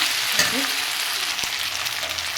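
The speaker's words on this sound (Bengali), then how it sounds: "মশলা ফ্রাই করতে করতে হয়ে গেছে সবজি" Spices and vegetables frying in a pan for a radish-leaf and fish-head ghonto, a steady close sizzle with a faint stir.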